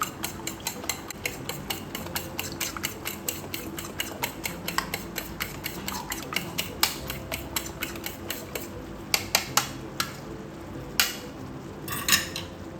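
Noodles are tossed with salt in a pan, giving a rapid, regular run of close metallic clinks and scrapes from the utensil against the pan, later slowing into a few sharper knocks.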